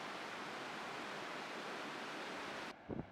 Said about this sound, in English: Just up from the visitor centre there is a small waterfall that's popular with tourists